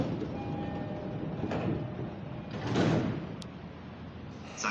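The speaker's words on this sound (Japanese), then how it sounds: "ドアが閉まります。 ご注意ください。 Please stand clear of the closing doors." Doors of a JR Sagami Line 205 series train close at Chigasaki station, with a rumbling platform background broken by a few soft sliding thumps and a final clunk. No one speaks.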